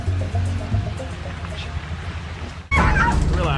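Rescued dogs from a southwest Miami property bark and yip in short bursts with faint whimpers, close by, over a steady watery background that jumps louder near the end.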